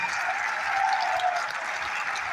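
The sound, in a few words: audience clapping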